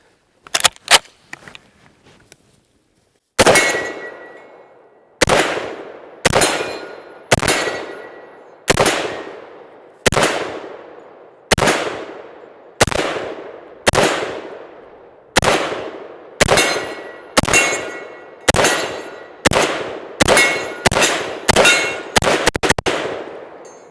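Rhodesian-style FAL rifle firing outdoors, a series of about fourteen loud, sharp gunshots with ringing echo tails, spaced roughly a second apart and quickening toward the end, after a few faint clicks.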